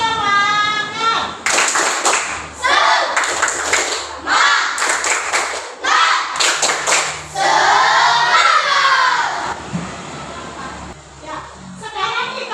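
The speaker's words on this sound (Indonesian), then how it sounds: "Sekarang tepuk semangat dulu. Tepuk semangat." A group does rhythmic tepuk semangat clapping, with bursts of patterned claps mixed with loud group chanting and voices throughout, close and lively.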